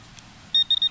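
A Garrett AT Pro metal detector sounds over a buried tarp grommet, giving a short high tone in three quick beeps after a brief faint blip, loud against a quiet background.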